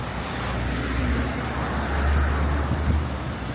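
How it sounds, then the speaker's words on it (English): Steady, loud road traffic in Kangar, Malaysia, a continuous low rumble of passing cars and heavier vehicles with no pauses, close by and without speech. "I keep forgetting how loud this traffic is."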